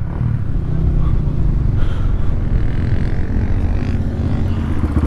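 83 horsepower Raptor sport quad engine on the Silver Lake sand dunes, a loud, close, continuous low rumble and roar that holds steady throughout, with no talking.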